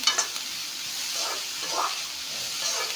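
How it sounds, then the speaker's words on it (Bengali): Onions lightly frying in a pan for a home recipe give a steady close sizzle and hiss with small crackles, continuous and alone without talk. "পিঁয়াজখিনি অলপমান ভাজি ল'লোঁ"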